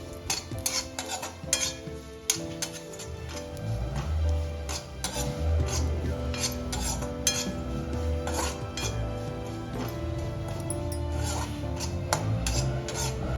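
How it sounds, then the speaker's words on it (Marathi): Grated coconut being sautéed in a pan until golden for sweet potato kheer, with a utensil scraping and stirring continuously and occasional metallic clinks, close and steady, without talk. "इथे आपण खोबऱ्याचं किस छान गोल्डन कलर येईपर्यंत परतून घेणार आहोत"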